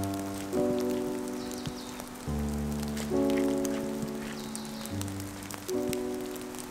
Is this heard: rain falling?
yes